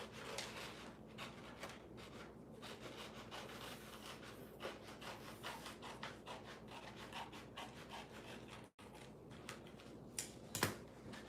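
Steady rubbing, sawing scrape of a blade cutting decorative trim away from a thrift store mirror, continuous and close with small irregular pulses, a brief gap near the end and a sharper knock just after.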